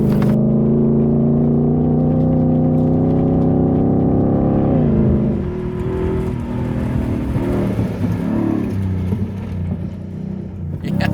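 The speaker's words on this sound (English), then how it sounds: "a truck that goes glub, glub, glub, glub, glub, glub, glub" A 700 hp Ford Raptor R truck engine gives a loud, steady, deep rumble throughout, its tone shifting and roughening about halfway through.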